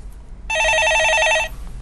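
A telephone rings loudly on a call-in stock market show, one sustained electronic trilling burst of about a second standing out alone against a quiet studio background.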